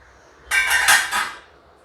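A metal lid lifted off a cooking pan of coconut on the stove, one short clattering metallic scrape and rattle lasting under a second, close and fairly loud against a quiet kitchen.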